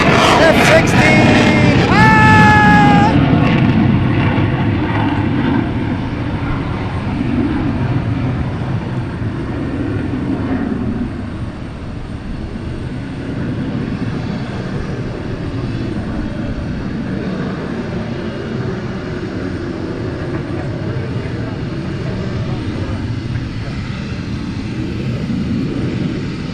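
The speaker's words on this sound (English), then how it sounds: "F-16!" An F-16 fighter jet roars past at Portland International Airport, a loud, sustained broadband rumble that slowly fades, with a person's voice briefly over the start.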